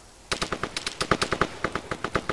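Rapid automatic gunfire in a military shooter video game, a steady string of sharp, loud bursts fired about four to five times a second after a brief quiet start.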